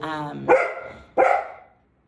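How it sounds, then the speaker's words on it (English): A dog barks in another room of a house, two distinct loud barks about two-thirds of a second apart, following a brief whine-like tone. "let me go see if I can figure out why Baxter's in the other room barking"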